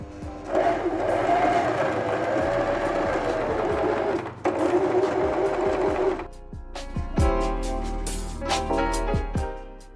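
A Singer sewing machine runs a long gathering stitch, a steady close whir for about six seconds, then a pause followed by short bursts of stitching and clicks.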